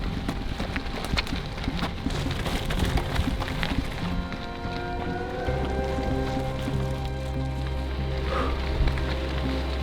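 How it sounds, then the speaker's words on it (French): Gravel bike tyres crunch and grind steadily over gravel, a dense, rough crackle that continues throughout, with a low rumble joining partway through. "Tu entends ce son du gravier sous tes pneus qui crissent."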